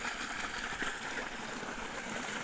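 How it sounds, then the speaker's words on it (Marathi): Water released into a farm channel behind a rural house, flowing steadily with a broad, continuous rushing gurgle at close range and no talk over it. "आमच्या घराच्या पाठीमागे दुसऱ्याला पाणी सोडलंय"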